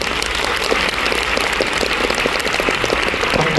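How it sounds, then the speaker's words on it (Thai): Concert audience applauding at a Thai golden-oldies song show, a dense, steady wash of many hands clapping that stays loud and even throughout with no voices over it. "ผมขอเสียงปรบมือกับรายการเดอะโคเดอร์สองด้วยนะครับ"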